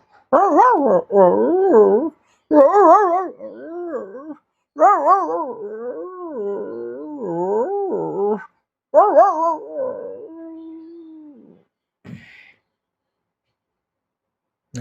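Someone mimics a dog with a run of warbling yips and whiny barks, rising and falling in bursts, then trailing off into a short whimper.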